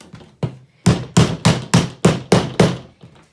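Hammer strikes on the lid hinge of a cat house, about seven sharp, evenly spaced whacks in quick succession after a softer tap or two, close and loud with no talking.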